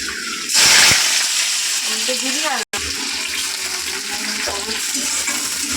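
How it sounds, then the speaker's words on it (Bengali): Onion dropped into hot oil in a wok bursts into a loud, hissing sizzle that settles into steady frying, with a brief cut partway through and a voice speaking over it. "এবারে আমি কিন্তু তেলের মধ্যে কিছুটা পেঁয়াজ দিয়ে দেবো।"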